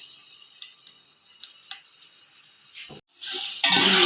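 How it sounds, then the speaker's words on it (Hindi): Onions are added to hot oil in a large pot and burst into a loud, close sizzle near the end, after quiet drips and small crackles, with no talk. "तो एक बड़े पतीले में हमने ऑयल डाल दिया है। ऑयल गर्म हो रहा है, अब हम इसमें प्याज ऐड कर रहे हैं।"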